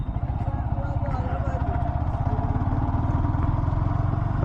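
Yamaha XSR 155 motorcycle ridden slowly over a rough dirt road, its engine putting out a steady low, pulsing thrum with faint clatter, close and continuous under a voice.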